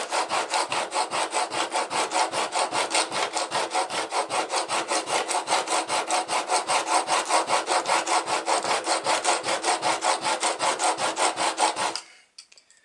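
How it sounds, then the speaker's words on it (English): Chisel sharpened on a coarse sharpening stone: steady, rapid back-and-forth scraping strokes, close and loud, continuing evenly for about twelve seconds before stopping abruptly. "Once I get somewhat of a sharp edge with the coarse, then I'll move on to the fine, and then extra fine"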